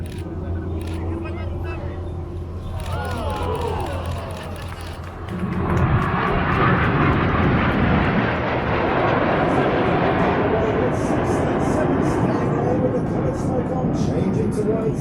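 RAF Red Arrows aerobatic jets roar overhead at an air show, and a broad loud rush swells and holds while an announcer commentates throughout.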